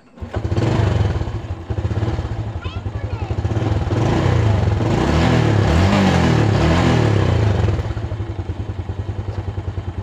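A fuel-injected Yamaha Jupiter Z1 motorcycle engine starts up close by and idles loudly with rising and falling revs, then settles into a pulsing idle.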